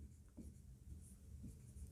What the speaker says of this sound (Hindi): तो मैं आपको इसे यहां लिख दूं